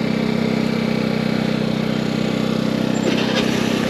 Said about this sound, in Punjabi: ਜਨਰੇਟਰ ਦੀ ਆਵਾਜ਼ ਆ ਵਿੱਚ ਇਹਨਾਂ ਨੇ ਜਨਰੇਟਰ ਰੱਖੇ ਛੋਟੇ ਛੋਟੇ